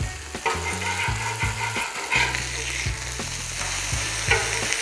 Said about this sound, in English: now let's flip our burgers because it's time.